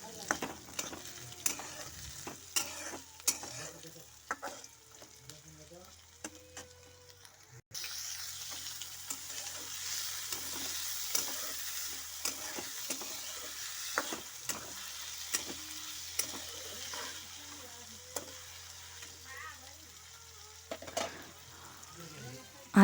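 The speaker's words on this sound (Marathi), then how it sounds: "कांदा जेव्हा निम्मा परातला त्यामध्ये शेंगदाणे टाकले आणि शेंगदाणे आणि कांदा जे आहे ते व्यवस्थित भाजून घ्यायचा आहे छान लाल होईपर्यंत" Onion and peanuts frying in a pan give a steady close sizzle, broken by frequent scraping knocks of stirring that grow louder and busier partway through, with no talking.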